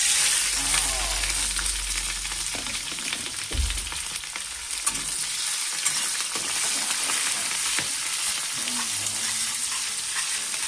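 Hot oil in a home kitchen pan crackles and sizzles steadily throughout as ingredients go in, with a few low bumps and faint clinks over the continuous frying hiss.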